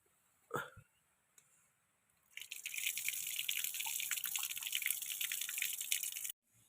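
Water runs from a tap over taro leaf stalks being washed, a steady splashing stream that starts after a few soft drips and handling sounds and stops abruptly near the end.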